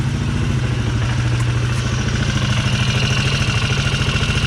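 A Polaris Sportsman 300 quad bike engine idles close by, a loud, steady, rapid mechanical putter and clatter that holds an even rhythm without pause throughout.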